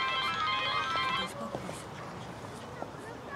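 A mobile phone rings with an incoming call, a bright repeating electronic tone that cuts off after about a second, followed by quiet room sound with faint scattered noises.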